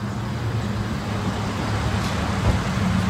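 Vehicles are rolled across a shipping partner's yard in Florida, giving a steady low rumble of engines and tyres at moderate distance, with no talking.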